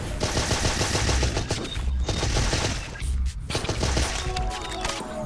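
Rapid machine-gun fire from the video game Zombotron 2 rattles almost continuously at high volume, with brief gaps and impact crashes between the bursts.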